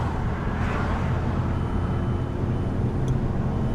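A Mazda 3 drives along with a steady, muffled engine and road rumble heard from inside, continuous and close, with no clear gear change standing out in this short stretch.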